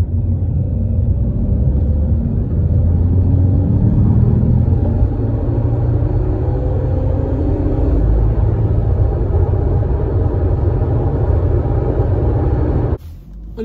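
A car pulls hard in fourth gear from 40 km/h, either a diesel turbo or a hybrid petrol, giving a loud, steady low engine and road rumble that holds for most of the stretch before it drops away abruptly near the end.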